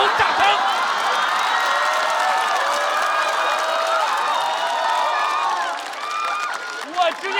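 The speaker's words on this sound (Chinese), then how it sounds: "听懂掌声。" Audience applause and cheering fill a stand-up comedy show in one dense, sustained wash of clapping and crowd noise that stays loud and thins out toward the end.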